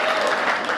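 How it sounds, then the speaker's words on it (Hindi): Loud, dense applause from an audience at a Hindi poetry gathering (kavi sammelan) welcoming a woman poet, steady and continuous through the short moment with no gaps. "जरा जोरदार तालियां बजाकर"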